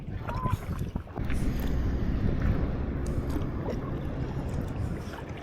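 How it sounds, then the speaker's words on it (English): Wind gusts over the Missouri River, producing a steady low rumble against the microphone, with faint water lapping around a paddled boat. "Wind is blowing."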